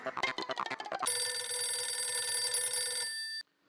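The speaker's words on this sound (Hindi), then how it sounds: "मैं अभी टप्पू के पापा को फोन करती हूँ।" A telephone rings in an Indian TV sitcom household scene. It starts after about a second of voices and busy sound, then holds a steady, loud electronic ring for over two seconds and cuts off abruptly.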